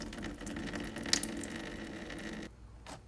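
Engine oil drains from an Infiniti car into a pan below, a steady splashing trickle that runs continuously before cutting off near the end.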